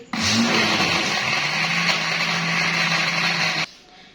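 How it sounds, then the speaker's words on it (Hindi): A blender whirs loudly and steadily, blending peach, soda and ice into juice, then stops abruptly near the end, leaving a quiet tail. "मैं अच्छे से ब्लेंड कर लूंगी"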